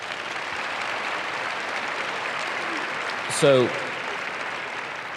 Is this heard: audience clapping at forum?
yes